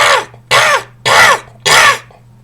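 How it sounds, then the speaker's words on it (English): Four harsh, flat alarm caws from a crow, evenly spaced about half a second apart, loud and close with no other sounds. "It means that the raven is alarmed or a crow is alarmed."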